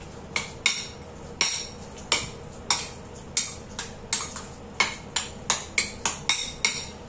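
A spoon mixing guacamole with pepper in a bowl, giving sharp, repeated clacks against the bowl at an irregular rhythm, close and clear with no talking.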